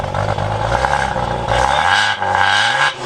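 A Maserati Ghibli engine revs hard under acceleration, loud and close, with a rising, surging tone that builds and drops back between pulls.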